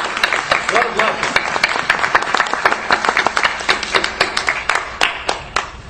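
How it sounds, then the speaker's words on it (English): Congregation applause at a Q&A session, loud and close with distinct individual claps standing out from a steady clapping crowd, continuing evenly for several seconds. "Let's give him applause"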